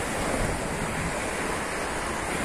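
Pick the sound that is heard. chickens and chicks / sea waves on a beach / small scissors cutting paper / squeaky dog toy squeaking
sea waves on a beach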